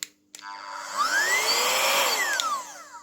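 A small, powerful handheld vacuum blower starts with a click, whines up to a loud steady motor drone, then winds down again, with a click near the end.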